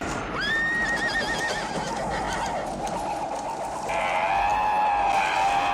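A horse neighs loudly in a film scene, a rising shrill whinny that wavers and trails off, then a second whinny comes later, with hoof clatter and busy ambient noise underneath.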